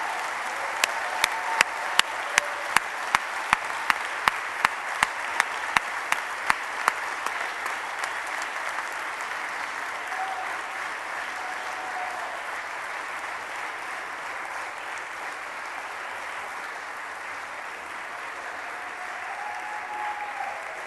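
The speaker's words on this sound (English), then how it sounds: "I'd like to take a moment to give a round of applause for our parliamentarians" Texas House members applaud in their chamber, starting with a run of loud, distinct individual claps over about seven seconds before settling into a sustained, steady round of applause from the whole room.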